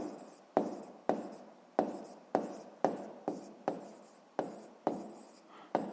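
A pen scratches out figures on paper in short, regular strokes, each a sharp scrape fading quickly, about two per second, close and quiet with no voice.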